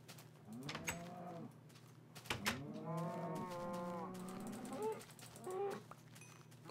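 Cattle in a farming video game moo several times, long drawn-out calls close by over a quiet background with faint mechanical clicking.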